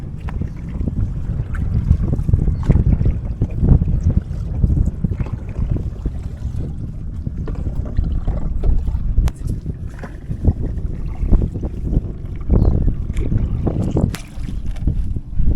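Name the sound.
rowing a long boat on water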